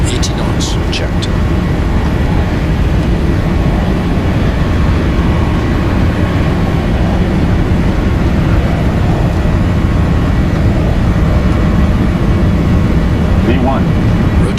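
A Boeing 737-800 rolls down the runway for takeoff in Flight Simulator X, a loud, constant low engine roar with rumbling, unbroken from start to end.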